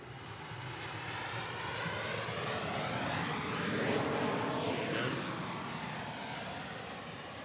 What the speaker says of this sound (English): So perfect timing here for the plane.